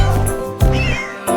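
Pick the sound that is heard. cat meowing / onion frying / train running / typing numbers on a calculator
cat meowing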